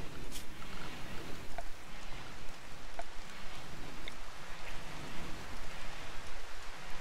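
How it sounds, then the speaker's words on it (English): Steady rain in the RimWorld colony-building game hisses as an even, continuous wash, with a few faint drop ticks above the constant patter. "Well, we got some rain."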